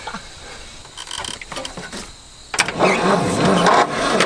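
An abandoned Ford F250 pickup's FE engine, sitting idle for 26 years, cranks over loud and close after a quieter stretch of clicks and fiddling, the starter churning unevenly for a couple of seconds.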